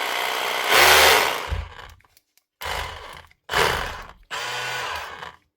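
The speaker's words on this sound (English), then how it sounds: "It's running, but no hammer." Milwaukee M18 FH cordless rotary hammer with a fault, its motor running without hammering: several separate bursts of close, loud whirring broken by short silences, no voices.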